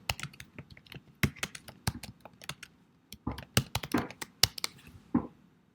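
A comment being typed on a computer keyboard, with crisp, close keystrokes coming in irregular runs and a few louder single taps, heard alone at moderate volume.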